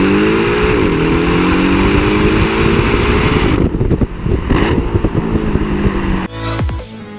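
A Porsche Boxster 718 sports car engine accelerates hard, loud and close, with rising revs, a brief drop near the middle and a gear change before climbing again, no talk over it.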